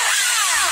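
A brief, steady high-pitched whine of an electric drill spinning after its bushing was rebuilt with Teflon, loud and close, its pitch sliding slightly downward.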